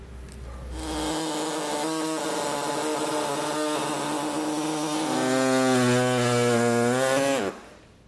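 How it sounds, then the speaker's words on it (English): A reciprocating saw with a small blade trims the plastic fascia of a 2020 Buick Envision, buzzing loud and close for about six seconds. The pitch shifts partway through the cut, then the saw stops abruptly. "We're just going to be using a small reciprocating blade to do it"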